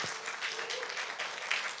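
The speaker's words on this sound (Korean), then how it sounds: "저희 마무리는 이제 5분께 박수 한번 보내드리면서" Brief, soft audience applause for panelists at an Art Busan 2024 conversation event, an even patter of clapping heard from a distance without voices.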